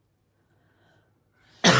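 A single sharp, loud cough bursts close to the microphone right after a long, nearly silent stretch.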